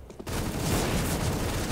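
A Negev machine gun in Counter-Strike firing one unbroken, dense burst of rapid shots that begins abruptly after a brief quiet moment and stays loud to the end.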